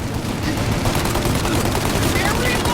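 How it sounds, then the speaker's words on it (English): Sustained gunfire in a Mafia: Definitive Edition shootout, dense overlapping shots forming a loud, continuous fusillade across the whole moment with no clear gaps, voices faintly mixed in. "Shoot out your gun when there's a break in the fire!"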